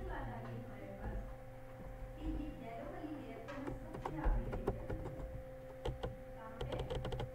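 Fingers tap a computer keyboard while someone types a word in Photoshop, with quiet scattered keystrokes that turn into a quick burst of clicks near the end, mixed with soft background talk.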